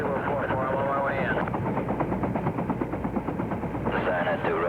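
Huey UH-1B helicopter gunships of the U.S. Navy Seawolf crews flying, a steady loud rotor and engine drone with radio voices talking over it throughout.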